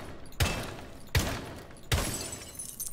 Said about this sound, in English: once he goes off rappel and you shoot the window a couple of times